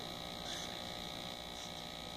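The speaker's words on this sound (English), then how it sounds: "And you're going to hear your transformer humming along." A transformer in a homemade hot wire cutter hums steadily at low power, an unbroken tonal drone with faint buzzing overtones and no talk.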